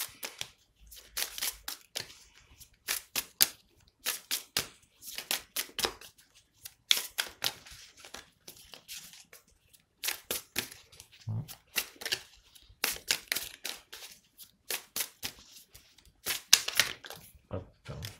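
Tarot cards being shuffled, with quick riffles and flicks in short bursts and small pauses between them, close and crisp.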